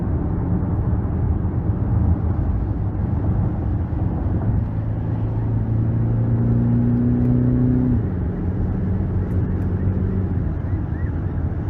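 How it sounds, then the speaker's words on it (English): Cadillac XT5 with a 2.0 turbo four-cylinder on the road: steady cabin drone of engine and tire noise, with the engine note audibly rising under acceleration partway through, then settling back to a constant cruise hum. "It definitely has some pep in it to push this big of a vehicle with a 4-cylinder."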